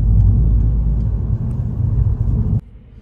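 Steady low interior rumble of a car driving home, loud and continuous, dropping sharply to a quieter hum near the end.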